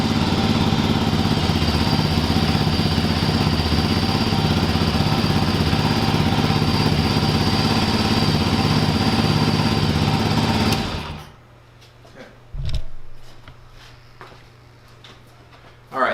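Genuine Motorcycle G400C engine idling steadily after an oil change, a loud close droning run that cuts off abruptly partway through, leaving a quiet room with a brief faint thump afterward.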